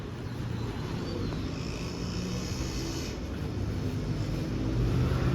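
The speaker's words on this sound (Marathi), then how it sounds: "नवीन गाडी नवीन युनिकॉर्न" A new Honda Unicorn motorcycle engine revs close by with a steady, throaty rumble that swells slightly toward the end, with no voices over it.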